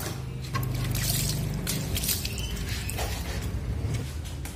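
Water is poured and splashed over an electric bicycle while it is washed, giving a steady close trickle and slosh with no voices.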